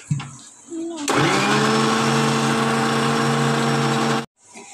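A blender whips homemade mayonnaise with all the oil added at once. After a second of handling sounds it starts abruptly and runs as a loud, steady motor whine with a strong hum, then cuts off sharply.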